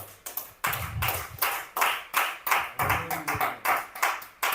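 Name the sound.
audience clapping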